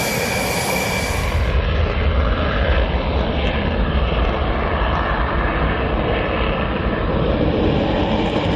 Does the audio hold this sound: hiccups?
no